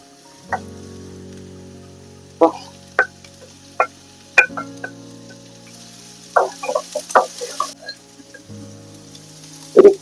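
Chopped small onions sauté in a pan for fish curry, with a low, faint sizzle and scattered clicks and taps from stirring. The sounds are sparse and close, with quiet gaps between them, and there is no talk.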